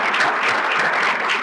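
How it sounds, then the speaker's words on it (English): Steady, dense applause from a lunch audience at a Law Day luncheon, honoring table sponsors; loud, continuous clapping from many hands throughout, with no voices over it. "would you give them a round of applause?"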